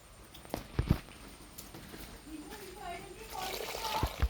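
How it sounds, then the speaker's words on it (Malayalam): Rinse water from a mixer jar is poured into a pan of coconut-ground sardine curry, a soft splashing trickle under quiet kitchen sounds and a few sharp clinks, with a voice talking faintly. "ജാറൊക്കെ കഴുകി ഒഴിക്കുന്നുണ്ട് ഞാൻ ഇതിലേക്ക്"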